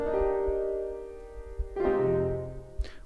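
A low piano chord rings out and decays, followed by a second deep chord struck partway through, with a faint higher note at the end.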